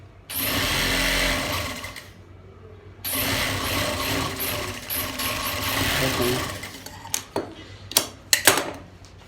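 A sewing machine stitches shirt fabric in two long steady runs of dense mechanical whirring, stopping briefly in between and ending with a few short sharp bursts. The sound is close and fairly loud, with no talking over it.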